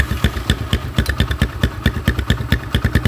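Motorcycle engine with a custom GL exhaust idling close up, giving a lumpy, uneven popping putter of rapid irregular thumps and clatter.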